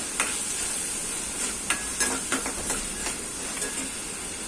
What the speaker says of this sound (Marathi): धना पावडर, चांगलं परतून घेऊया.